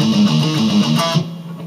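Electric guitar playing the closing bars of a riff section: a short repeating figure that stops abruptly after about a second, leaving a faint ringing tail.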